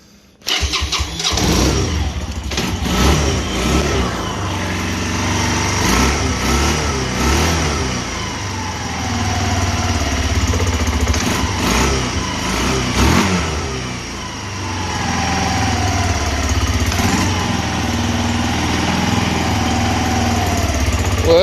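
A Kawasaki Bayou 220 ATV engine with a rebuilt top end starts up, then runs at a loud, steady, slightly uneven idle for about twenty seconds, with brief throttle blips along the way.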